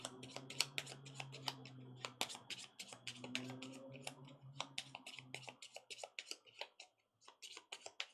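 A deck of game cards for a solo tabletop session is shuffled close up, giving rapid riffling flicks and soft card clicks in irregular bursts that thin out toward the end.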